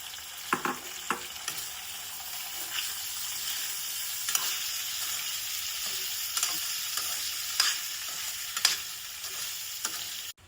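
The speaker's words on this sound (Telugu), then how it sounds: "ఇప్పుడు నానబెట్టుకున్న సగ్గుబియ్యాన్ని వడగట్టుకొని ట్రాన్స్పరెంట్ అయ్యేంత వరకు మనం ఫ్రై చేసుకోవాలండి" Soaked, drained sago pearls fry steadily in a pan, a continuous broadband sizzle with occasional sharp clicks and scrapes of stirring throughout, no voices.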